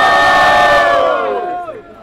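A live crowd at a Brazilian state-level rap battle semifinal erupts in loud, sustained cheering and shouting for a rapper, a brief roar that tails off after about two seconds.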